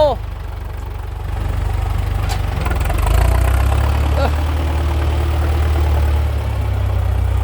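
A 32-year-old Ford 6640 tractor, a 90 hp engine with no turbo, idles in a rice field with a deep, steady low rumble that swells slightly midway, while someone talks over it.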